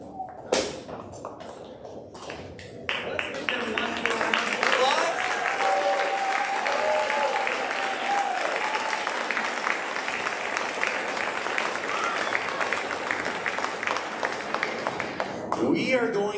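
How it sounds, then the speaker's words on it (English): An audience applauds a youth orchestra group at a Christmas showcase, with a few scattered claps and thumps first and then a sustained burst of clapping lasting about twelve seconds, with stage movement and some talk mixed in. "Let's give them one more round of applause."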